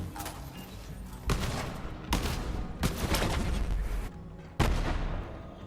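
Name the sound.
gunfire from a legendary gun in Borderlands 3 video game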